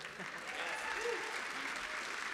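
A concert audience at a Canadian folk music awards roots showcase breaks into sustained applause, a dense wash of clapping that runs throughout, with faint voices underneath.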